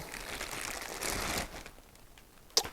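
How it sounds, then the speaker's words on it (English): A Joying 8.8-inch Android car stereo head unit is pulled from its plastic bag, giving soft close crinkling and rustling that fades out, ending in a single sharp tap. "So we'll start with that as it's in a plastic bag. So you can see here, let's get this out."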